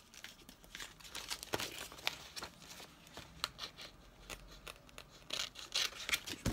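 Scissors snip and crinkle through scrapbooking paper for a miniature greenhouse craft, a series of quiet, close, irregular cuts and paper rustles with no talking.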